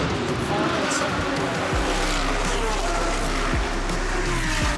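Race cars exiting the Macau Grand Prix hairpin, with a Porsche and a Mercedes in the field, roar loudly and continuously as engines rev through the gears. A commentator talks over the noise throughout.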